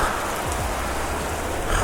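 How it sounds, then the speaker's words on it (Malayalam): Steady, dense rain pours down in a continuous hiss with no pauses and no voices. "മഴ പെയ്യില്ലെന്ന് വിചാരിച്ചതാട്ടോ പക്ഷേ ഇതാ കൊടുമഴ"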